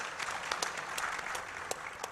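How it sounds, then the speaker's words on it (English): An audience applauds Ibu Marsudi at an economic diplomacy panel, a steady patter of clapping with a few sharper individual claps standing out, fairly soft and distant. "Please give another round of applause to Ibu Marsudi."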